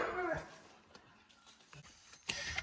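A dog whimpers faintly in a garage during repair work on a Volkswagen Golf Mk2, giving short, quiet whines among soft clinks and shuffling, with a brief louder noise at the end.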